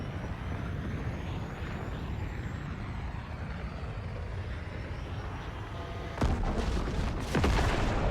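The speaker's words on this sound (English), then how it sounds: "Hear explosions off to my left." Explosions in a video game go off to one side, two sharp booming bursts near the end rising over a steady, rumbling engine-like background drone, with no talking.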